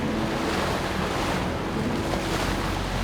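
Ocean waves and strong wind rush continuously around a 26-meter, 65-ton sailing research vessel underway off Lorient, a loud, broad wash with steady microphone buffeting and no voices.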